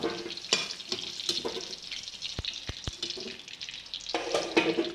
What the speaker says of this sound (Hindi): हमारा आलू ऑलमोस्ट हाफ फ्राई हो चुका है।